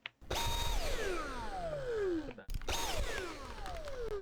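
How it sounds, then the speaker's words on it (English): A vacuum cleaner whines up to speed, falling and rising in pitch, cuts off briefly, then starts again, loud and close. "But this is the vacuum cleaner."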